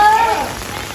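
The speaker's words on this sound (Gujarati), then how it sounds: "વરસાદ આવ્યો" Rain pours down outdoors as a loud, dense hiss of drops striking surfaces, steady across the short moment and close at hand, with no clear speech.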